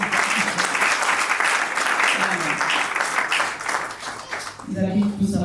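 A room of guests claps warmly at a civil wedding for the wife of a guest, dense applause that stays even for several seconds before tapering, and a voice speaks near the end.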